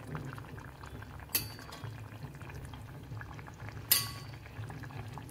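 Eggplant and green pea curry with crushed peanuts simmers over a low gas flame in a pan, giving a steady soft bubbling that is broken by two brief sharp clinks.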